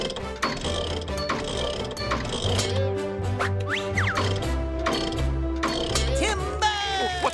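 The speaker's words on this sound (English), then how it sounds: "First, I'll unbolt it." Cartoon mechanical tree being unbolted, a busy run of ratcheting clicks, metallic clanks and whirring gear sounds in quick rhythmic bursts, close and fairly loud, with short electronic sweeps mixed in.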